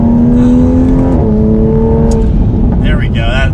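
Tuned Toyota A90 Supra with about 450 wheel horsepower accelerates from inside the cabin, its loud engine droning with a rising tone, dropping briefly on a shift, then climbing again, with faint voices near the end.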